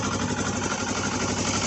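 A Polaris Ranger XP 900 EPS utility vehicle engine idles steadily and loud, close up, with an even low rumble that holds for the whole moment and no voices over it.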